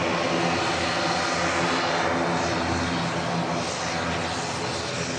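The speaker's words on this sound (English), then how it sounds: "Behind this beautiful Emirates 777 for the return to the Middle East to Dubai as flight 22." An Emirates Boeing 777 jet airliner at Manchester Airport gives off a dense, continuous engine roar with a droning low hum, close and loud, steady across the whole stretch with no pauses.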